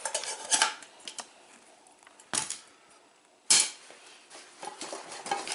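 Camping mess kit pans, bowls and cups being handled, with several sharp metallic clanks and clatters separated by quieter shuffling, close up and without speech.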